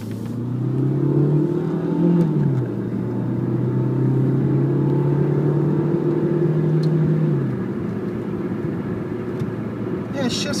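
A 2001 Mazda 626 with a four-cylinder engine and automatic transmission drives off. The engine hum rises, drops at a gear change, then settles into a steady rumble before easing off, all close and continuous.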